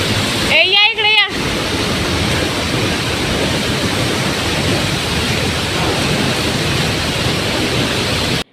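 Thoseghar waterfall near Satara pouring in heavy rain: a loud, steady broadband roar of falling water throughout, with a brief burst of voices or a wind-buffeted noise near the start.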